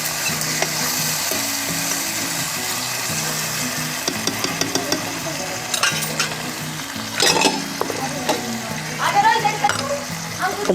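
Tomatoes cooking down in a pan as they are stirred for a dry Indian vegetable dish: a steady sizzle and frying hiss with repeated scraping and clinking of the spoon against the pan, close and continuous, with a low background hum.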